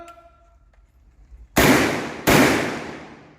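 Typhoon Quake shotgun test-fired outdoors, two sharp loud blasts about three-quarters of a second apart, each with a short decaying echo, after faint talk at the start.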